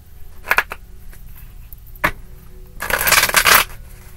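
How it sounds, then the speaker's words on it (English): Tarot cards riffled and bridged together, a couple of quick flicks early, then a dense papery riffle lasting under a second near the end. "That just didn't want to shuffle together."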